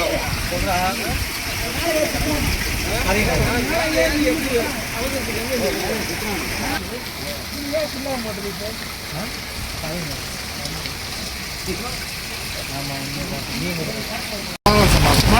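Steady rain falls and splashes on surfaces in a Tamil Nadu ward hit by flooding, a dense continuous hiss beneath people talking throughout.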